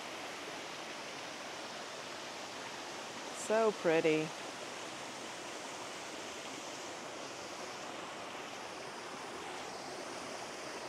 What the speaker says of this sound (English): This is just a little waterfall right there.